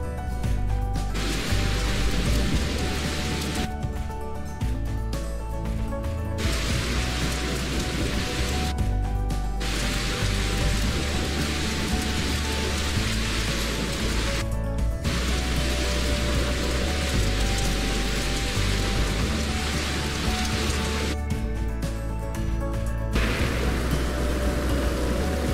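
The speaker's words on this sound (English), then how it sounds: "here is the video Arthur is watching a thunderstorm from the loft of a barn, RDR2 ASMR" Steady heavy rain during a thunderstorm, heard from the loft of a barn in the video game Red Dead Redemption 2, a dense continuous downpour that stays loud throughout with no talking.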